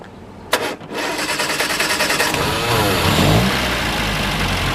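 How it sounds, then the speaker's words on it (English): A rebuilt 1958 MGA Roadster engine cranks with a short burst, then catches and revs, settling into a loud, steady rumble with rising and falling throttle. "So we're going to go ahead and fire it up for you."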